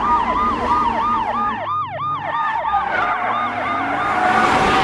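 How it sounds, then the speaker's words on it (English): A Russian ambulance siren repeats a fast, loud two-tone warble in a steady rhythm, continuous and close, with no voices. "This is a Russian ambulance."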